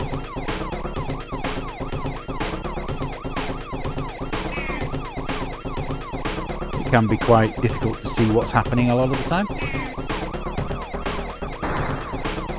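Police car sirens from the 1991 Amiga racing game Cisco Heat wail in repeated rising-and-falling sweeps amid game engine noise, loud throughout, with someone talking over them.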